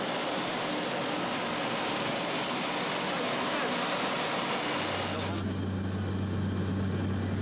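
Airplane cruising over the vast Kyzylkum desert on a two-hour flight to Khiva, a steady loud broadband engine and airflow roar filling the cabin, shifting to a lower drone near the end.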